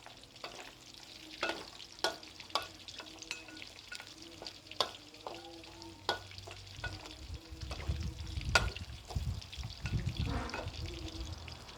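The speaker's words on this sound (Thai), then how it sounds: "ทอดกระดูกซี่โครง" Pork rib bones fry in oil with a crackling, popping sizzle. Close stirring knocks and scrapes punctuate it, and the bubbling grows louder and denser toward the end.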